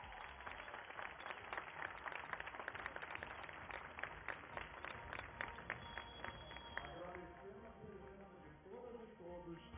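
Dense crowd applause fills a Nissan industrial launch ceremony attended by Brazil's president, steady and fairly distant for about seven seconds before thinning out as voices take over.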